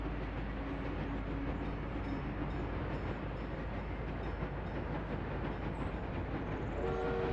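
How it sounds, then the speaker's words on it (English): A freight train in a city-building video game rumbles past with a continuous dense rolling roar, steady throughout, with a tonal horn-like note sounding briefly near the end. "That's our first freight train."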